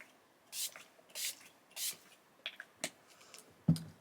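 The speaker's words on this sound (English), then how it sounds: "just give the face a spray." A few quick hissing mists from a setting spray bottle onto a face, three evenly spaced bursts followed by softer, shorter puffs and a light tap, close by and quiet.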